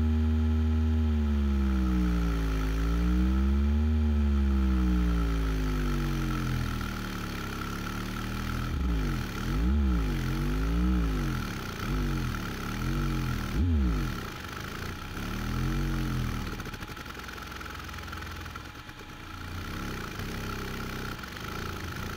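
A prototype SD-3 8-inch subwoofer driver is pushed to its linear excursion limit, giving a loud, deep low-frequency tone that sweeps up and down in pitch, with rapid warbling swoops in the middle section, continuous throughout.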